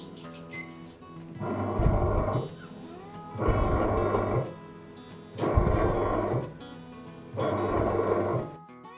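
A bread machine runs its first program for a 900 g white wheat loaf with a medium crust. Its kneading motor growls nearby in four evenly spaced bursts of about two seconds, with quieter pauses between them.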